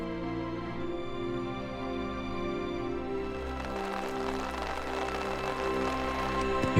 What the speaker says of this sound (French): il pleut un max depuis 5 h du matin.